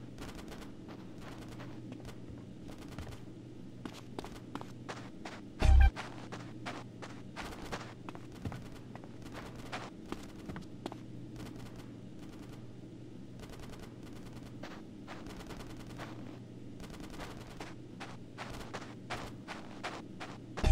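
Gunfire in GTA San Andreas: scattered single shots and short bursts crackle at moderate distance over a steady low game drone, with one louder bang partway through.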